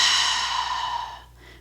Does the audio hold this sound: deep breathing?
yes